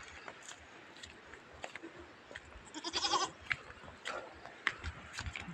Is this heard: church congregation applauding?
no